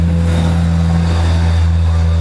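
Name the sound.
car with loud muffler passing by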